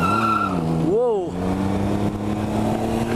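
Tires on a 2020 Can-Am Ryker 900 ACE three-wheeler squeal in a short rising-and-falling chirp as it peels out, over the steady close drone of the engine, with a voice heard around it.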